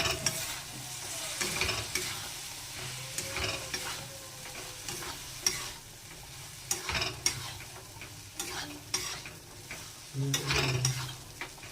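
Kidney beans stirred into fried masala in a pan, repeated loud scraping spatula strokes over a continuous sizzle, close and without talk.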